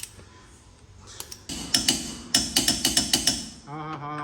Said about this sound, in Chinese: 我们先给它上个90度，用这个扭力扳手，200牛现在预定好了